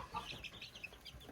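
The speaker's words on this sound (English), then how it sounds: "here are the newest batch of baby chicks and baby turkeys" Baby chicks and young turkeys peep and cheep in a brief busy flurry, high chirps overlapping close by above low handling rumble.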